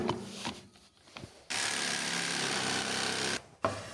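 A power saw bites into an ash wood board with a loud, steady rasping whine for about two seconds, between quieter handling knocks.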